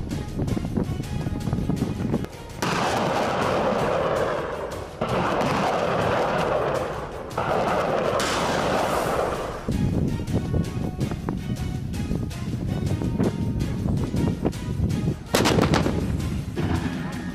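Artillery firing during military tactical field exercises, a series of loud booming discharges with sustained rumbling and wind buffeting between shots, heard close and dominant throughout.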